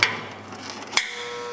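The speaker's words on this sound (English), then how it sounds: "you can hear the solenoid going on and off" On an MVE Cryogenics XLC-1110 liquid nitrogen storage container, a solenoid snaps twice about a second apart, two sharp clicks over a steady mechanical hum.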